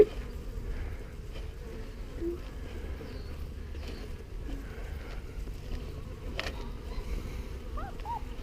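Bees buzz around a backyard beehive, a soft continuous droning hum close by with individual insects flying past, faint and steady throughout.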